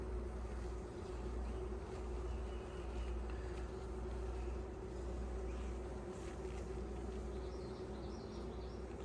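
Honey bees buzz in a dense, continuous drone during the first inspection of a hive, loud and close, with no talking.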